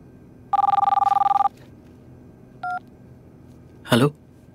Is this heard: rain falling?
no